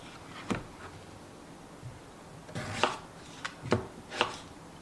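A knife cuts potatoes into cubes on a board, a handful of separate thuds and chops, sparse at first and then clustered, close and fairly quiet.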